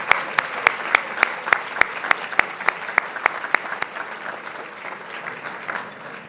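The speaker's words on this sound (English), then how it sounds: "Let's honor them with a round of applause, please." A banquet audience at a press-freedom awards dinner applauds steadily, with dense clapping and a few sharp, close claps standing out, gradually thinning toward the end.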